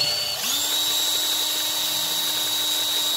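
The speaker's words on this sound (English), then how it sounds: "I'm gonna get the other drill." A power drill whines steadily at a constant pitch for several seconds, close by, with a faint second motor tone underneath and no talking.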